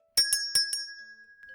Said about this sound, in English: Bell at the door jingles